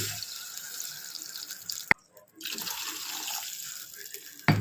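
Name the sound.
water poured into soaked basmati rice in a pot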